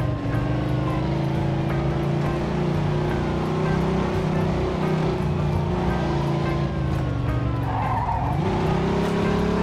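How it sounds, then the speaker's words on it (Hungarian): A tuned car in a video game car chase roars steadily with a continuous engine drone and squealing, skidding tires, loud and unbroken throughout, with a pitch dip near the end. "Egy kis autós üldözés."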